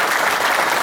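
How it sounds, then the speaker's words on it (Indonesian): Audience applause at a talk, a dense burst of many hands clapping at once, steady and fairly loud for under a second. "Tepuk tangan."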